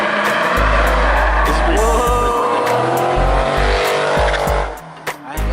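A race car roars loudly around a track with sustained high-revving engine drone, tire squeal and brief gear-shift breaks, cutting out sharply near the end; a voice is faintly audible beneath.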